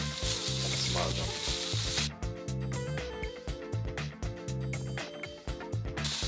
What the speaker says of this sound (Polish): Ja jak zwykle używam patelni żeliwnej, troszeczkę przesmarowana oliwą olejem i na gorące wrzucam naszego pokrojonego kurczaka.